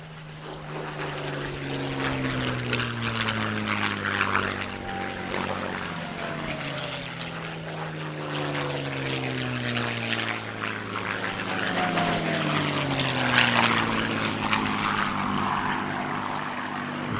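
An ex-South African Air Force Spitfire Mark 9 in Canadian colours flies past at an airshow, its piston engine and propeller giving a loud, sustained throaty drone that rises and falls in pitch as it passes.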